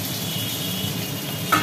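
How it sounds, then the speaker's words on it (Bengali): Potato pieces fry in hot oil with a steady, close sizzle that holds evenly throughout, with a faint scrape near the end. "গরম তেলে টুকরো আলু"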